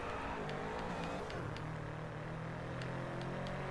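A racing car engine in the Driveclub video game hums steadily, a little muffled, with faint higher whines and brief ticks over the top.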